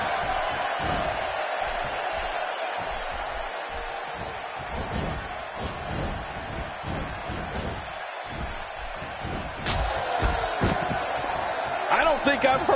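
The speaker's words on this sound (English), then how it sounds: "I don't think I've heard a crowd get into something as much as these folks here tonight, JR" A wrestling video game crowd roars and cheers steadily throughout, with an arena-like din, and commentators talk over it during the match.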